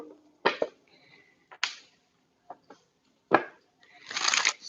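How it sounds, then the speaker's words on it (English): Tarot cards being shuffled close up in a few separate short riffles and slaps, with quiet gaps between, ending in a longer rustling shuffle. "I'm being told to shuffle again."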